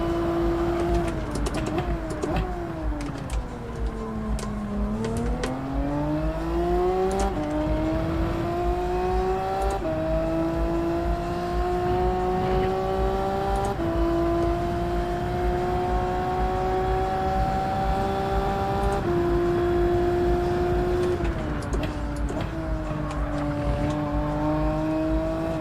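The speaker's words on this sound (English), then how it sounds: "I'm going to try not to rev it out as much." A racing car's engine revs and shifts through gears continuously during a Gran Turismo 7 race at Suzuka, pitch climbing and dropping steadily, loud and close with no talk over it.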